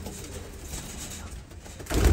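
Teddy pigeon cooing, with soft low coos and rustling in a pen among breeding birds, ending in a louder close burst.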